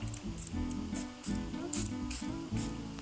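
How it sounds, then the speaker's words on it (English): A Banish Vitamin C Elixir face mist is spritzed in a rapid series of short, close pumps, each a crisp hiss with a faint mechanical click from the nozzle. "Just spraying it on."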